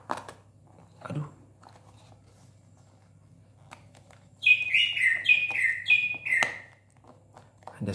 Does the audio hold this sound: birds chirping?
yes